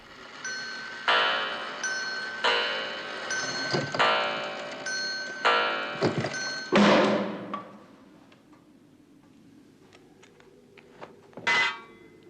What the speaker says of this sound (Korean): 자정을 알리는 종소리가 울리는데